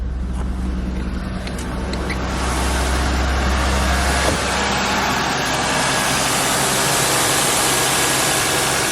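A car engine, just started with a portable 2000A jump starter, idles steadily up close, a continuous low rumble that grows slightly louder partway through, with no talk.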